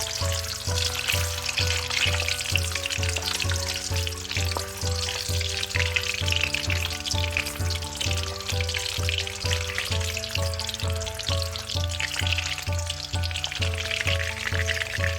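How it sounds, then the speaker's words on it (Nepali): Eggs frying in oil for egg biryani give a steady, bright sizzle throughout, heard close up under rhythmic background music. "अब अन्डालाई राम्ररी यसरी फ्राई गर्नुपर्छ पहिला"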